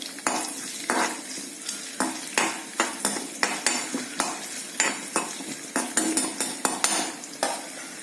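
Ginger is sautéed in hot masala for a thick-gravy varutha chicken curry, with a steady sizzle and rapid, repeated spatula scrapes and clanks against the pan, close and busy.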